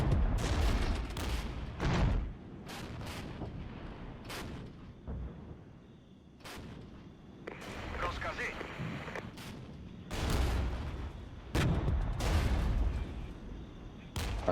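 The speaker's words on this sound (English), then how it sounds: "Hit that mortar fire very quickly indeed" Repeated booming mortar and artillery impacts in the Regiments real-time strategy game, set in a Czechoslovak versus Canadian battle, arriving as sharp, loud blasts at irregular intervals over a steady rumbling battlefield backdrop.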